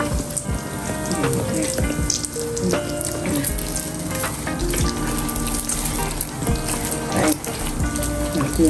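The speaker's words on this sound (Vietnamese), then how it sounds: "Chiên cái này nữa nè" Bánh tiêu dough rounds frying in hot oil give a steady, close crackling sizzle that carries through the whole stretch, with small clinks and bumps of a utensil against the pan.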